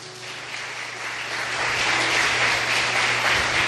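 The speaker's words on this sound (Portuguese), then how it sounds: "Dê um aplauso ao Senhor." A church congregation bursts into sustained applause during a Portuguese-language sermon, the dense clapping swelling slightly louder and continuing steadily to the end.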